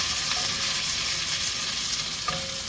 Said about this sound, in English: Add pumpkin, a little sugar and salt, and then cover and let cook.